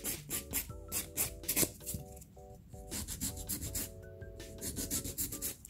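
A nail file rasps back and forth over a gel nail extension capsule. The strokes are quick, close and rhythmic, with brief pauses, while soft music plays underneath.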